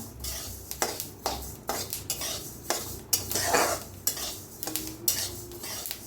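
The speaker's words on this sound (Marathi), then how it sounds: "हे पहा कसं भाजायला लागलेलं आहे, आवाज येत असेल तुम्हाला" Flax seeds dry-roasting in a pan while a spoon scrapes and stirs them, a steady crackling sizzle broken by repeated close metallic scrapes, with no voices.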